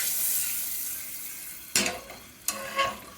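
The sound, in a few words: garlic and spices frying in oil, stirred with a spoon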